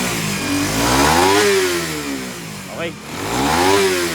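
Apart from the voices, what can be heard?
Raider FI motorcycle engine started and revved after remap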